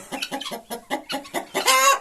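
Several hens cluck in short repeated bursts close by in a closed pen, ending in a louder, more agitated squawk.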